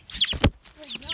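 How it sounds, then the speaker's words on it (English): A farm chicken clucks up close, with a couple of short rising squawks around a sharp thump, fairly loud, while a person talks nearby. "Runaway chicken."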